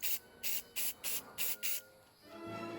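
French blue spray paint hisses from a can in six short, evenly spaced bursts, close and fairly quiet, followed by a softer, steadier hiss.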